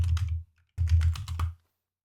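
Typing on a computer keyboard: two quick, close runs of crisp key clicks separated by a short pause, with no talking.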